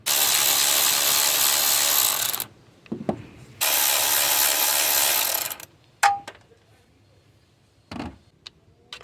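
A ratchet wrench works a 10mm bolt on a Hyundai engine during a timing chain and head gasket job, giving two long bursts of dense, rapid clicking, then a few short metallic taps and knocks nearby, with no talk.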